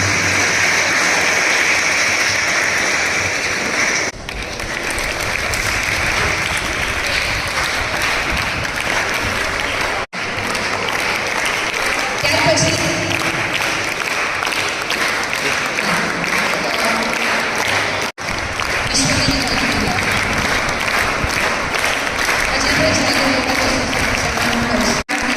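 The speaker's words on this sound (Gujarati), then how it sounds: "આપણે અહીંયા આગળ બેઠેલા વિદ્યાર્થીઓ માટે એકવાર જોરદાર તાળીઓથી એમને સન્માનિત કરીએ" Sustained loud applause from an audience honouring students at a district-level Sanskrit speaking day event, steady dense clapping lasting throughout with brief dips between bursts.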